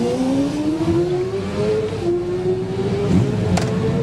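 Kawasaki and Yamaha racing motorcycles at the Manx Grand Prix Senior Race, engines howling at high revs as they pass, pitch rising and then falling, loud and near with crowd and ambient noise behind.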